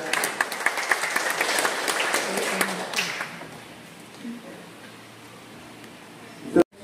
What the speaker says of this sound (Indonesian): Mari kita beri aplaus sekali lagi ya Maria